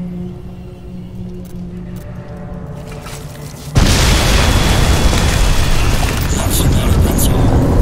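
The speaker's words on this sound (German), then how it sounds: "Explosion unmittelbar bevorstehend." A sudden loud explosion in Crysis 2 Remastered cuts in partway through, giving way to a sustained roaring, crackling rumble after a quieter stretch with a steady hum and faint voices.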